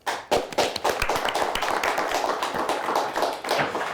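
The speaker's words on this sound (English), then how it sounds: "a nice round of applause for an excellent game and some nice play" Audience applause after a high school quiz bowl match between Roscommon and Onekama, a dense, steady crowd clapping with some sharp individual claps standing out, sustained throughout.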